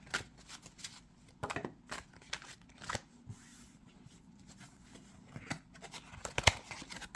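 Tarot cards shuffled hand over hand: a series of soft, irregular papery flicks and slaps, close and fairly quiet, with a sharper snap near the end.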